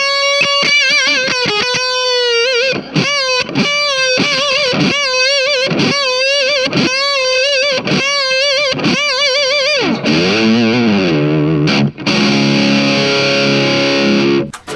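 Electric guitar played through a Boss DS-1 distortion pedal, a run of loud, sustained distorted notes and chords with short gaps, ending in a denser, buzzing wash of overdriven sound.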